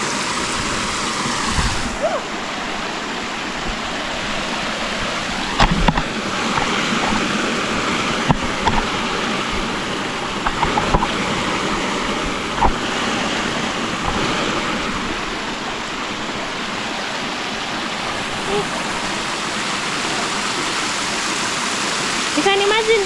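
Rushing river water flowing steadily after a flood hit a village, a loud continuous broadband roar with a few brief knocks and splashes throughout.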